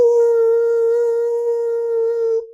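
A conch shell, the Panchajanya, blown in a devotional setting gives one long, loud, steady tone with bright overtones, held unbroken for over two seconds before it cuts off.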